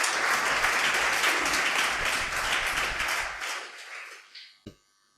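Crowd applause, steady and moderately loud, gradually thinning out and fading, ending with a final sharp clap.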